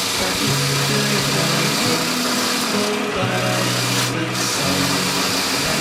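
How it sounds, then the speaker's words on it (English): A spinning wire wheel brush grinds against a steel flint striker, a continuous loud whirring buzz with shifting tone as the piece is pressed and moved. "Working with the wire wheel."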